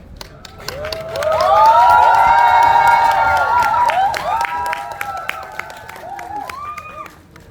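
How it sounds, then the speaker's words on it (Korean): A cinema audience claps and cheers for a stage greeting at a Megabox theater, a loud sustained burst of applause and shouts that swells, then fades into scattered clapping. "좀 큰 박수와 함성으로 맞이 부탁드리겠습니다."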